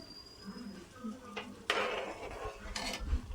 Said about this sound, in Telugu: మిల్ మేకర్ సాఫ్ట్ అయ్యేదాకా కలుపుకోవాలి.